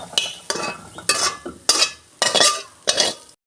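Cauliflower and potato fried in a pan are stirred in about six distinct scraping strokes with a regular rhythm. Each stroke brings a burst of sizzle and clatter, then the sound cuts to silence at the end.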